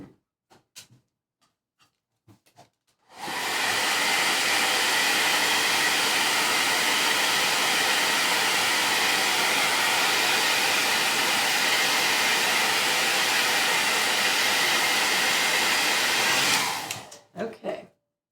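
Hair dryer blowing on DecoArt Metallic Lustre paint, switched on after a few soft handling noises and running as a loud, steady close whoosh for about fourteen seconds before cutting off.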